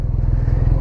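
A 2017 BMW R nineT Racer motorcycle engine revs close by, a loud, steady, throbbing boxer-twin pulse with rhythmic low firing beats and no voices.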